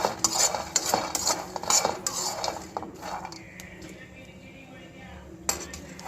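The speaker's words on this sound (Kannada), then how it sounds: "ಅದು ಚಟ್ಪಟ್ ಅಂತ ಸೌಂಡ್ ಬರುತ್ತೆ, ಮೇಲೆ ಸಿಪ್ಪೆ ತಾನೇ ಉಚ್ಚುತ್ತೆ" Peanuts dry-roasting in a pan, with busy stirring clatter and scattered crackles at first that thin out to a quiet hiss, then one sharp clink near the end.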